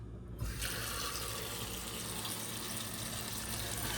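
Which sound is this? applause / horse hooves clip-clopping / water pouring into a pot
water pouring into a pot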